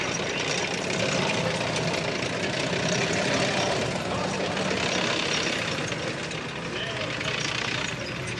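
An M24 Chaffee light tank's engine rumbles steadily at a battle-scenario display at Tankfest 2023, a dense, loud, continuous drone that holds throughout with no break.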